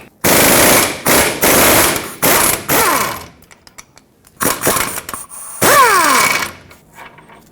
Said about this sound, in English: Finish removing the bolt.